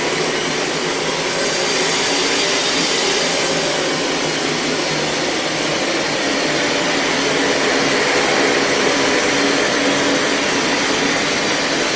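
A Bissell ProHeat 2X Revo carpet cleaner runs on its heavy rinse setting, giving a loud, unbroken motor and suction whine that holds steady for the whole stretch, with no other sounds over it.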